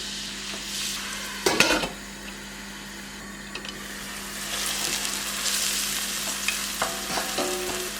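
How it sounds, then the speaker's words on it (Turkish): Steady sizzling of onions frying in oil and butter, with a few clinks and stirring scrapes of a utensil against the pan. "Soğanımızı pembeleşene kadar kavuracağız."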